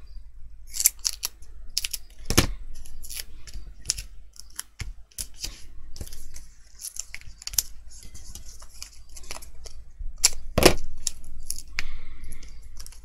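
Scissors snipping through printed cardstock at a craft table, a run of short, sharp close-up cuts with a few louder snips standing out, no talking.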